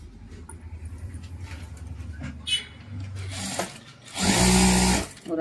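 A sewing machine stitches lace onto a V-neck blouse. Someone talks first, then the motor bursts into a loud, fast whirring run lasting about a second before stopping.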